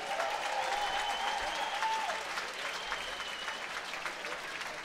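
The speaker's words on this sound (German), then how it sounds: "Bitte noch einmal einen großen Applaus für David und Sammy." An audience at a fight event applauds the two fighters, with continuous clapping heard from a distance and a brief whistle over it, fairly faint and steady throughout.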